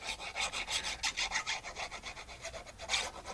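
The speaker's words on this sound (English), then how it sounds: "I'm gluing my pocket right up close to my face" Paper pocket being glued into a handmade journal, a close, soft repeated rubbing and scraping texture in quick strokes, faint and alone.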